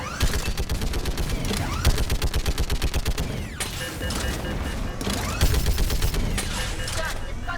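Gunfire in the game Mass Effect 3, rapid bursts of automatic shots in tight rhythmic volleys, loud and close with short gaps between bursts, with voices talking underneath.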